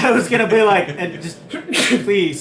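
A sneeze bursts out among lively, overlapping talk from several people during a casual gaming session, a sharp brief broadband burst near the middle of the chatter.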